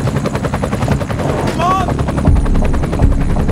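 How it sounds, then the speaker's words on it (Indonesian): Helicopter rotors chop steadily as the aircraft arrives in a scene from the 2022 film Troll, loud and continuous, with a voice speaking over it and brief higher whines midway. "sebuah helikopter menjemput Nora ketika sedang merayakan temuan mereka"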